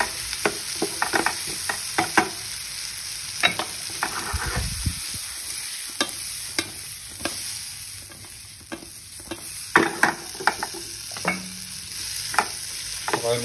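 Prawns sautéing in butter in a pan for butter prawns, with a steady sizzle running throughout and frequent scrapes and clinks of a spatula stirring, close and moderately loud.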